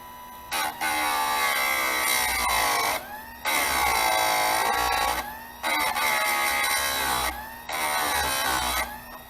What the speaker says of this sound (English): I'm sharpening at a 30-degree angle.